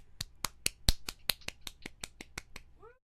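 Sharp hand claps from a single person, about a dozen evenly spaced and fairly faint, ending with a brief voice.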